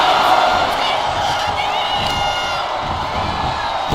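A wrestling arena crowd at a live WWE SmackDown event cheers and shouts loudly and continuously, a dense roar with whoops rising above it.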